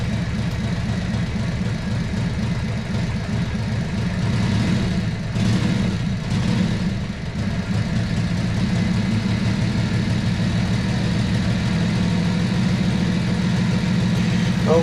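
A 1943 Harley-Davidson WLA army motorcycle engine idles steadily while warming up, a loud, continuous low rumble that holds even throughout with no voices.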